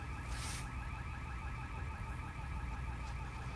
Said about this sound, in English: That alarm is further away.